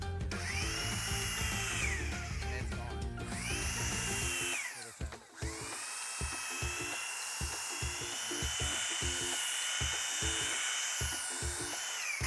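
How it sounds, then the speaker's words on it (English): A power sander works cedar railing wood, a loud whining motor hum in the first seconds that breaks into repeated short bursts and pulses as the tool moves along the wood. "then just take a sander to that"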